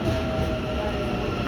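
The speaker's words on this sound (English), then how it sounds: "Here's another train arriving on the other side" Auckland Western Line train at Newmarket station, a steady low rumble of a train rolling through the platform, fairly loud and continuous throughout with no talk.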